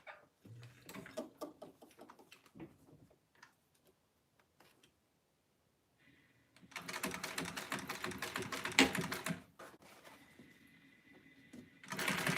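A sewing machine top stitching with white thread runs in two bursts of rapid, even mechanical chatter, one lasting a few seconds and another starting at the end, after quieter ticking and handling sounds.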